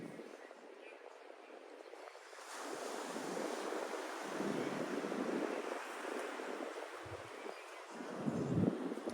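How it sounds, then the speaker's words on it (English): Ocean waves surge and wash in steadily, swelling louder after the first couple of seconds, with wind buffeting the microphone throughout. "I'm hoping that the waves of the ocean intuitively guides you to the card"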